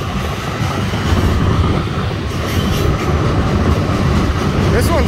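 A BNSF mixed freight train carrying coal cars, led by a CP locomotive, rumbles past close by with steady rolling noise, wheel clatter and occasional faint squeals, while people talk in the background.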